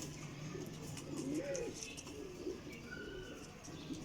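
A prized fancy pigeon coos softly in a pigeon loft, a few low, rolling calls set against faint background hum and distant noise, with no one speaking.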